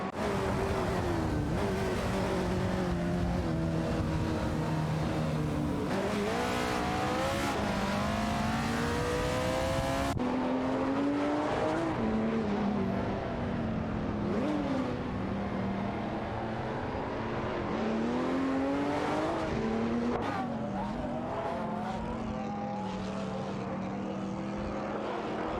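Race car engines from a racing video game, including a Jaguar F-Type Project 7 and a Ford GTX-1, roar and rev continuously, with shifting pitches from several cars overlapping in a loud, dense mix.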